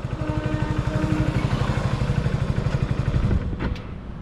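A Hero Passion Plus motorcycle idles with a steady, close thudding beat that stops abruptly when it is put into gear with the side stand down, followed by a brief clatter and quiet.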